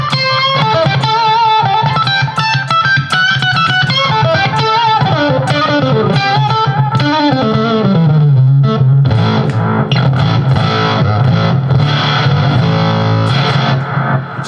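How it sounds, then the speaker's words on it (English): Electric guitar played through a Mythos Argo octave fuzz pedal, a thick, gnarly distorted tone with octave-up harmonics, steady and loud throughout, shifting from melodic lines into denser sustained chords and riffs. "It's an octave fuzz pedal from Mythos pedals."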